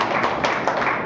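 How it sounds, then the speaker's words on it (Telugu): Sunday school teachers at a training session clap together in a short, scattered burst of hand claps, fairly close and with no talking. "Very good, claps claps."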